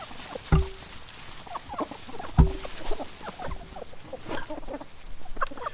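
Chickens cluck and murmur softly, with a few sharper clucks standing out over scratchy background noise.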